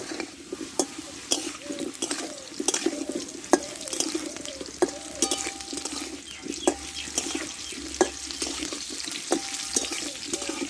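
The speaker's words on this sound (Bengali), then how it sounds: "ডাটাগুলো আমি আলুর মধ্যে দিয়ে এবার একসঙ্গে কষে নেব আমি" Potatoes and vegetable stalks stir-fried together in a pan, with soft sizzling and repeated scraping and clinking of a spatula in an irregular rhythm, close by and with no talking.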